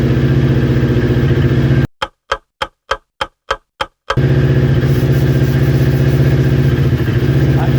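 A newly built motorcycle idles steadily after a cold start, loud and close, its even engine rumble broken midway by a short gap filled with a quick run of sharp clicks before the idle resumes.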